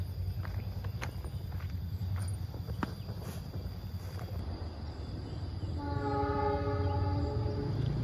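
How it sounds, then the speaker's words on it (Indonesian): The KA Serayu passenger train sounds its horn as signal 35, a sustained tonal blast rising out of steady rail rumble in the last couple of seconds, with no talk. "Oke, semboyan 35-nya sudah mulai terdengar."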